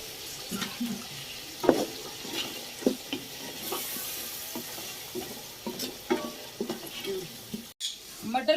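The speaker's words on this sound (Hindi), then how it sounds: "अभी थोड़ा सा पानी डाल के उनको पहले गला लेती हूँ" Peas cooking in a pan as water is added, a soft sizzle and bubbling with scattered stirring clinks and scrapes, fairly quiet and close, alone without talk.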